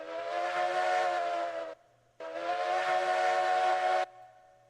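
A multi-chime steam whistle on a coal-fired steam locomotive in a train video game sounds two long, loud harmonic blasts, each roughly two seconds, separated by a short gap, with faint engine hiss beneath.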